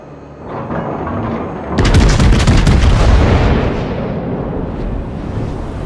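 Warship guns fire in the naval battle game World of Warships, a heavy booming salvo that bursts in loudly and rolls on as a sustained rumble and crackle, with no voices.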